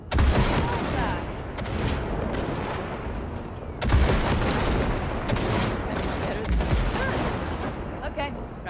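Ship guns blast away at wrecks in a space video game, a dense, continuous barrage of booming shots and rapid gunfire with sharp heavier bursts near the start and middle.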